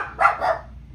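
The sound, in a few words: dogs barking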